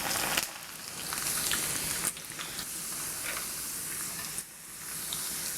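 Sliced garlic frying in hot oil for garlic rice, a steady close sizzle with a few sharp crackles and brief dips as pieces are stirred, with no talking.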